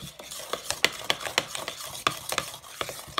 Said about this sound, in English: I'm going to combine all of my wet ingredients together real good